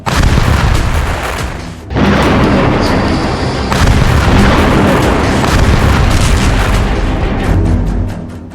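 An Israeli air force bombardment strikes near the Lebanon border. Loud, rumbling blasts and booms follow one another, with a sharp break near two seconds, then a continuous roar of heavy explosions fills the rest.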